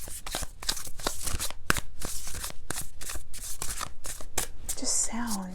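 A thick tarot card deck being shuffled repeatedly, a steady run of crisp riffling bursts close to the microphone, with a soft voice murmuring near the end.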